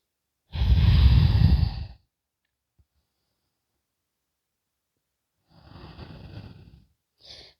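Slow deep breathing during yoga breath cycles in a back bend, a long loud inhale or exhale close by, a silent pause, then a softer, quieter breath and a brief final puff.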